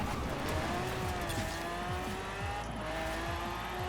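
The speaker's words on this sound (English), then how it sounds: "Wow, I can actually spin all four wheels." A car in Forza Horizon 4 revving hard while spinning all four wheels, a sustained rising engine whine with tire noise, steady and loud throughout with no talk.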